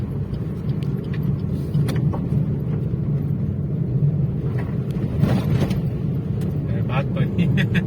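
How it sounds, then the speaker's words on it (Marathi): A car leaves the NH66 highway and heads downhill on a rainy day; its steady engine and tyre rumble runs continuously beneath people talking, with a few light clicks and rattles. "आणि आपण आता इकडून खाली घेतोय गाडी."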